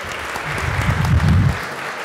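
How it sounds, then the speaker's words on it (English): Audience applause for the police at a city state-of-the-city address, a brief burst of clapping swelling toward the middle and then fading, with no talk over it. "Let's give them a round of applause."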